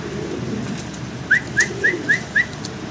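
A bird gives five short rising calls in an even sequence, clear and close, over a low steady background hum.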